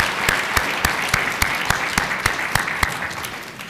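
An audience at an automotive advertising awards ceremony at the 2007 New York Auto Show claps steadily for the winners and finalists, a dense, sustained round of applause with sharp individual claps standing out, no talking.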